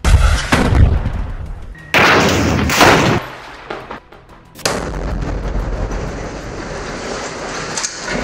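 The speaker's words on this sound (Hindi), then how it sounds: "हमास के लड़ाके गाजा के अलग अलग इलाकों में IDF के ऊपर आग बरसा रहे हैं।" Gunfire in a Gaza combat zone, with Hamas fighters attacking Israeli soldiers: loud, close bursts of shots and heavy booming blasts that come in separate waves over a constant rumbling background.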